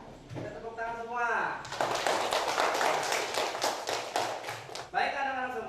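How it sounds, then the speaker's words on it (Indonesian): Classroom of Indonesian schoolchildren clapping together in a dense burst of many rapid hand claps lasting several seconds, with the teacher talking just before and after. "Kita tepuk tangan semua."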